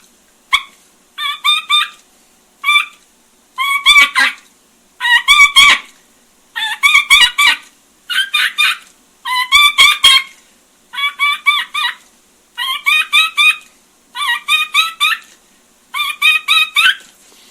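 A turkey caller imitates hen turkey calls in a steady series of about a dozen short, raspy yelping bursts, loud and close with brief pauses between them.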